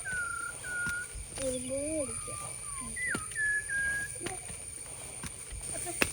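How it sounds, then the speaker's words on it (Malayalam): A bird gives a series of clear whistled calls on a Kerala farm plot beside a stream once used for watering. The calls rise, fall and sweep, come at moderate distance, and stand out over a low background hum. "കിളി വരണ കേട്ടോ."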